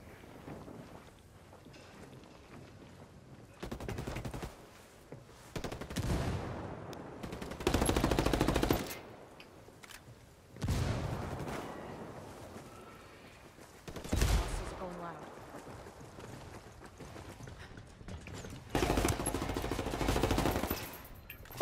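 Video game gunfire arriving in several separate loud bursts and volleys over twenty seconds, with quieter wind-like rumble and noise between them.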